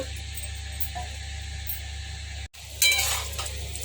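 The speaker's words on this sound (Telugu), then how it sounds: "పప్పులు ఫ్రై అవుతున్నాయండి" Chana dal, urad dal and mustard seeds frying in a kadai make a steady hiss with a few light clinks, briefly cut off, then returning with a louder burst of sizzle.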